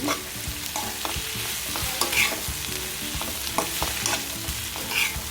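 Tomato sautés in a pan for squid masala, giving a close, continuous sizzle broken by repeated stirring scrapes and clinks, with no talking.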